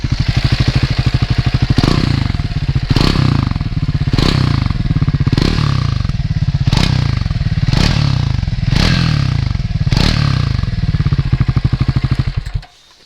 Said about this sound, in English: Let me start it up so you'll get a feeling of it. This is the Scrambler, and it has a nice grunt for a 400cc Euro 5 engine.